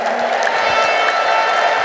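Church congregation applauding with high ululation, a dense continuous wash of clapping and trilling voices at close range, loud and sustained throughout.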